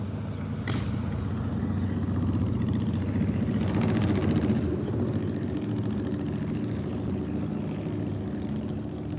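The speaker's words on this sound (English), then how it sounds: "Here's a loud motorcycle meeting me at an intersection again." A loud motorcycle passes at a street intersection, a steady close engine roar holding for several seconds amid traffic.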